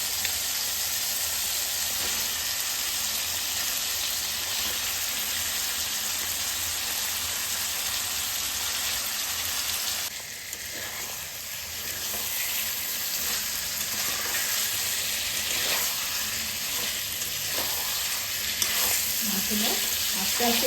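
Marinated chicken sizzles steadily in a spiced masala base for a chicken and potato curry, a dense continuous frying hiss with a brief dip midway and scattered stirring scrapes toward the end, no voices.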